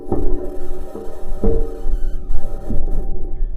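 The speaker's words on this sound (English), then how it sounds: "This is the sound of the rover driving on Mars." A Mars rover's metal wheels rolling over rocks and sand, giving a continuous grinding rumble broken by sharp clanks and knocks at irregular intervals, close and fairly loud.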